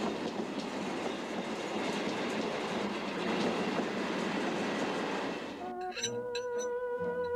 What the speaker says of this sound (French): j'aime bien les trains qui se côtoient aux approches des gares